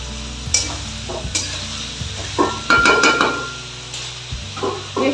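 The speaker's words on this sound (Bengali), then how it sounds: "পুরো সবজিটা একটু ভালো করে ভাজা হয়ে যেতে হবে।" Vegetables for navratan korma frying in a pan, with a soft sizzle under repeated scraping and knocking of a spatula against the pan.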